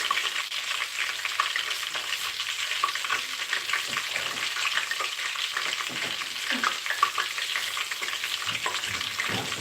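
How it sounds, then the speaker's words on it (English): Garlic stir-frying in hot oil, a steady dense sizzle with crackling pops running the whole time, close and fairly loud, no talk. "you want to fry that garlic inside the oil, like so. Just let it stir fry for about a minute"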